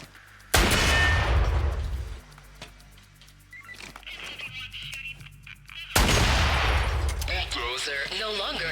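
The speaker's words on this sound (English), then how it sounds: "Rocket launchers are some of the highest damaging weapons in the game." Rocket launcher fire in the heist shooter Payday 2: two loud, close blasts several seconds apart, each with a heavy rumbling tail, and game sounds and chatter in between.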